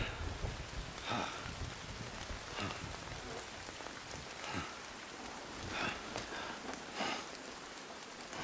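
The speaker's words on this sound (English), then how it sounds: "What's happening right there with the rain falling in this world, it's called timefall." Timefall rain falls in the video game Death Stranding as a continuous, soft hiss of rain on surfaces with gentle swells in intensity, heard alone at low volume.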